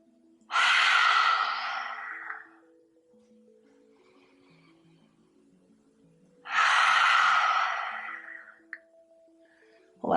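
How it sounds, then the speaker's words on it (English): Two long, loud exhalations come through the mouth several seconds apart during a yoga session, each a breathy whoosh that slowly fades, with quiet intervals and soft background music between them. "inhale through the nose. Exhale through the mouth"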